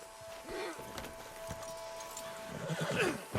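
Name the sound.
horse neighing and hooves, from a video game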